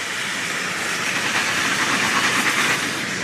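Wine poured into a hot pan of onion and garlic sizzles with a loud, steady hiss that holds evenly for several seconds, cooked at an island feast on Rarotonga in the Cook Islands.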